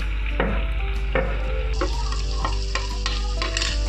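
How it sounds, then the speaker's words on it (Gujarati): A spoon stirs peanut and potato khichdi as it fries in a pan, with soft scraping strokes and clinks at irregular intervals over a low, steady sizzle, close by with no talking. "આ નાખી પછી આપણે આને સરસ આ રીતે હલાવી લેશું।"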